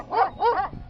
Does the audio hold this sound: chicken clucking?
no